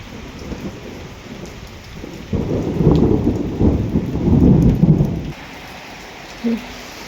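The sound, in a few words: heavy rain and wind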